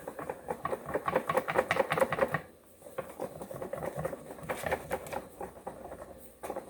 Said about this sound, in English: So then we just whisk this together.